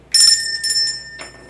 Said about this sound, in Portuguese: Cadê o sino?